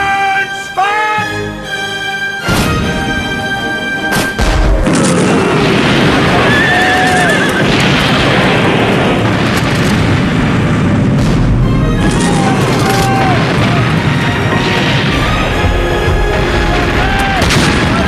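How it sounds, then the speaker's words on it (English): Ship's cannons fire broadsides in a radio drama naval battle: loud, heavy booms over a dense, continuous din of battle noise, with neighing horses and shouted voices mixed in. "Fire! It's the Indy! Alternate guns! Fire!"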